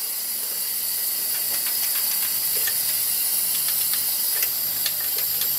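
Compressed air hisses steadily from a Honda Ridgeline engine cylinder during a leak-down test for a misfire, a continuous bright hiss with faint ticking underneath.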